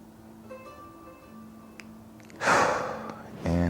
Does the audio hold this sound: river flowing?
no